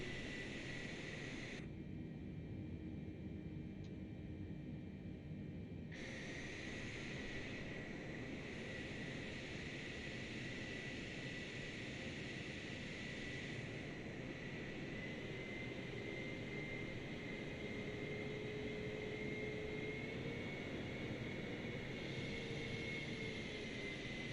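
A cargo aircraft taxis toward runway 32 at Dover Air Force Base, a continuous broad engine roar and hiss heard steadily at a distance throughout, with a faint whine rising near the end.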